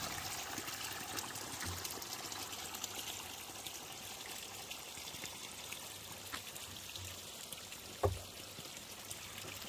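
Mountain spring water trickles and babbles steadily in the open air, a soft continuous flow with one brief knock near the end.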